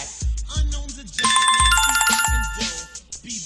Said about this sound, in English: We got a phone call